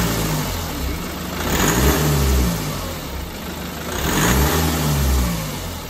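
A BMW engine with sluggish acceleration idles and then revs up twice in slow swells, rising and falling, close by with no talking.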